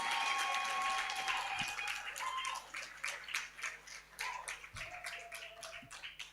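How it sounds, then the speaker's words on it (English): Scattered applause of clapping hands that thins out into a patter of individual claps, with a faint voice underneath. "Please a round of applause for Kia one more time, yeah?"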